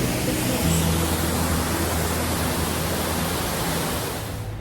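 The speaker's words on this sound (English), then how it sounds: "We found yet another waterfall." A waterfall in France roars as a loud, steady broadband rush close by, holding evenly before easing slightly at the end.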